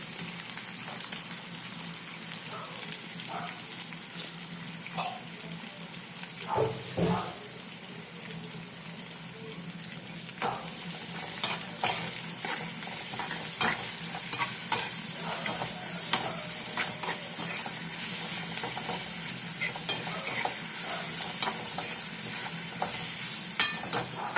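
Ginger and garlic fry in hot oil in a pan with a steady, fairly close sizzle, broken by scattered stirring clicks and scrapes.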